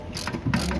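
Ratchet clicking while a bolt is tightened on the rear suspension of a 2012–2013 Citroen DS3 during a coil spring replacement, a short close burst of rapid mechanical clicks with no talk.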